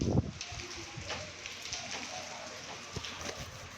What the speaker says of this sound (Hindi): लेकिन बारिश अभी भी है।